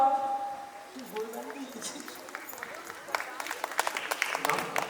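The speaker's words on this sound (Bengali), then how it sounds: "আরো একবার একটু জোরে করতালি দেবেন" Scattered clapping picks up after a moment of speech, growing into steady applause from an audience, moderately loud.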